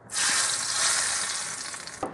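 Loud, close sizzling bursts up as food hits hot oil reused from frying tofu, a bright steady hiss that eases slightly toward the end.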